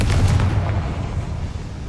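Confringo blasting spell explosion in the video game Hogwarts Legacy, a loud, deep booming blast that rumbles and fades over two seconds.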